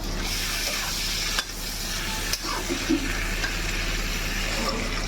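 Cauliflower is added to potatoes cooking in a pan for a cauliflower and potato curry, with a steady close sizzle, stirring scrapes and a few sharp knocks of the utensil, without talk.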